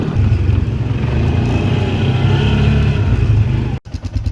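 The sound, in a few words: Dodge Grand Caravan engine backing out of a forest trail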